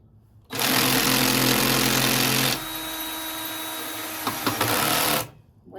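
A power drill drives screws into a raised garden bed, two long whining bursts, the first loud and high-pitched, the second lower and strained, ending abruptly.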